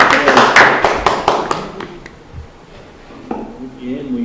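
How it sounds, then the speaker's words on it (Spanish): A classroom group briefly applauds a student named Carmencita during a Bible survey lesson, with a burst of sharp claps in the first two seconds that thins out and fades, followed by quiet room noise and a faint voice. "Démosle un aplauso a Carmencita, por favor"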